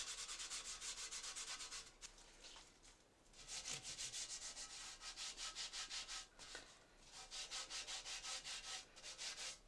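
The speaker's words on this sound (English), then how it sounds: "I'm just going to give it a good scrub" Old rusty cast iron skillet scrubbed by hand, a close, loud rhythmic rasping in quick strokes, with a brief lull near the beginning and another short break before the scrubbing resumes.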